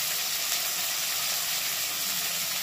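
Chopped large onion, tomato and halved green chilies frying together in hot oil, a steady, dense sizzle and hiss that stays even and fairly soft throughout with no talking.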